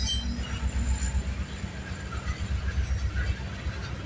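CN freight train with a DPU locomotive rolling past on the York Sub, a close, continuous low rumble of railcars with rhythmic wheel clatter and faint squealing, while a person speaks briefly.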